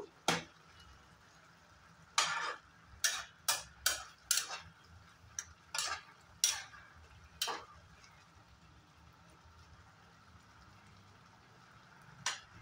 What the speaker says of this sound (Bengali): এখন সবটা ভালো করে মিশিয়ে নেব।